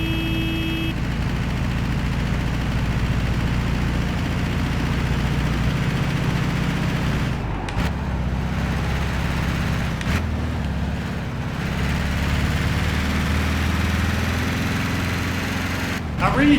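An air-cooled, Volkswagen Beetle-style engine idles in the Gran Turismo 5 racing game, a steady low rumbling drone with a few brief dips in level.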